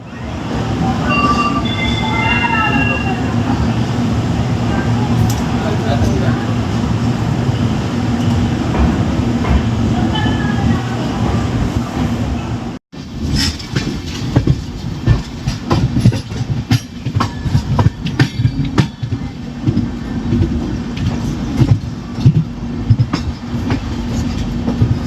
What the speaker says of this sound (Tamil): Yeshwanthpur to Mangalore Junction is departing from platform number 5 at 7 hours.